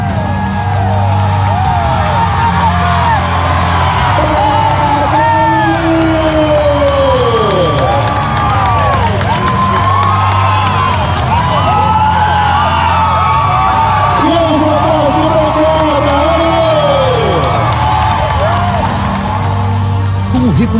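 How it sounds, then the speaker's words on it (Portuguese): A large crowd at indigenous games cheers, whoops and yells continuously and loudly, with shrill voices rising and falling throughout. "um povo que grita alegre"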